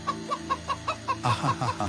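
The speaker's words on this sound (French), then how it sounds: "je finis par trouver un poulailler" Chickens clucking in a henhouse, a run of short rhythmic clucks at steady intervals that grows louder and busier toward the end, heard close with no talking.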